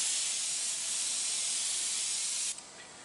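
A pressurized spray gun at about 55 to 60 psi lays root beer brown finish onto a gun stock, giving a loud, steady airy hiss that cuts off abruptly near the end.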